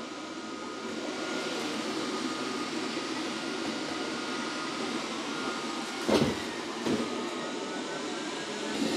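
Roborock Q7 Max robot vacuum running while cleaning indoors, a steady broadband whir of motor and suction at moderate level, with two brief louder knocks near the end, no talk.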